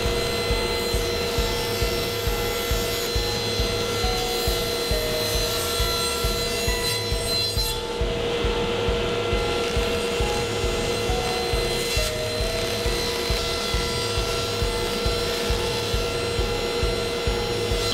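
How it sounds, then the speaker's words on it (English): A table saw rips a wood workpiece to final size for a custom entry door, the blade cutting with a steady, continuous grinding whine and a brief dip in the middle, loud and close. "Then I lower my blade and my second cut and third cut will rip my pieces to final size."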